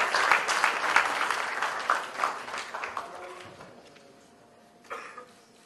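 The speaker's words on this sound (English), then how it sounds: "let's have a huge round of applause for His Holiness the Gyalwang Drukpa." An audience at the ThinkEDU 2015 spirituality and higher education event applauds His Holiness the Gyalwang Drukpa. The dense, steady clapping fills the hall, then thins and fades over several seconds, with a brief final flurry near the end.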